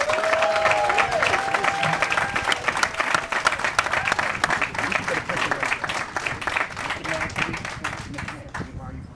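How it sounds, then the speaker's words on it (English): A crowd at a ribbon cutting for Mid City Loft gives a big round of applause, dense continuous clapping with scattered cheers and voices mixed in, tapering off at the very end. "Let's give them all a big round of applause."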